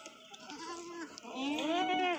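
A pregnant goat bleats nearby, with a wavering call followed by a louder, rising, drawn-out bleat at the end, set against a quiet background.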